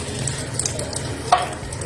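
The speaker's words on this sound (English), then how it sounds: "I'm sure you can see there are tiny bubbles coming up. It's frying gradually." Oil heats gradually in a pan, giving off a faint, steady low sizzle with scattered soft crackles and one small clink, close by and without talk.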